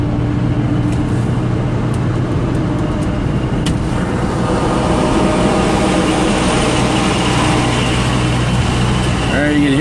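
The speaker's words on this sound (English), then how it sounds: "You can hear the bus accelerating at the car moving slowly in front of them." A GO Transit bus accelerates behind a slow-moving car in traffic, its loud, steady engine roar and road rumble filling the whole stretch without a break.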